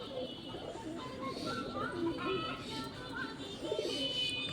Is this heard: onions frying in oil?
no